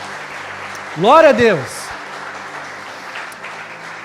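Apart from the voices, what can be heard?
congregation applauding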